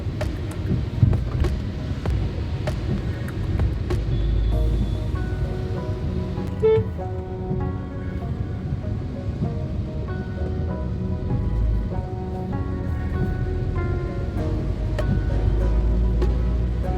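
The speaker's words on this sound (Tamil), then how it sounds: "இங்கே வந்து லைட்டாக தான் மழை தூரிக்கிட்டு இருக்கு" Inside a Hyundai i20 Asta Optional driving through light rain on Anna Salai in Chennai, a steady wash of tyre and road noise blends with soft patter and low engine rumble, with no talking.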